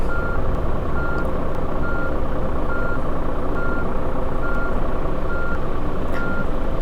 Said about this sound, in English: Let's see if I can reverse a little bit.